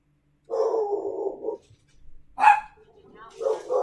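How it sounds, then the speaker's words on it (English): A dog barks outside, a few short muffled barks and yips at a distance with quiet gaps between them, heard alone without talk. "I have a dog outside?"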